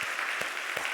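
Brief applause from a church congregation at a Sunday worship service, a steady clapping texture with a few sharper claps standing out.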